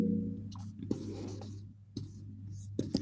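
Chalk or marker scratching across a classroom board while notes are written during a Hindi-medium triangle geometry lesson, a quiet run of scraping strokes with short pauses and small taps, over a steady low hum.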